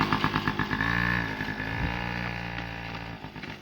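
A Yamaha PW50 small motorbike ridden by a child: a close, buzzy two-stroke engine note that rises and wavers steadily throughout, with no talking.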